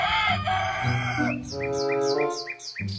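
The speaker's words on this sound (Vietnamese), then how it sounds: "Nó là một con gà trống các bạn ạ." Toy rooster crowing, a loud, close electronic cock-a-doodle-doo rising in stepped tones, followed by quick repeated clucking chirps, with no talking.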